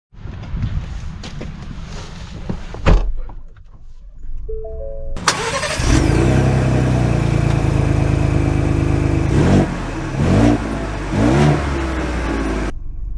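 A 2023 Ford Bronco Wildtrak with Fox shocks is heard up close. After some rustling and a thud, the engine cranks and fires, then holds a loud, steady rumble with a couple of brief revs.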